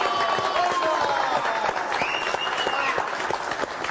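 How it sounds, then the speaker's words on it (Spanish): Studio audience on a Venezuelan TV talk show applauds for Fidel, a steady, dense burst of clapping filling the room, with a host's voice and faint tonal lines running through it. "Y un aplauso a Fidel"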